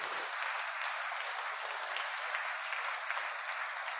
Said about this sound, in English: So please applaud while I'll go the slides.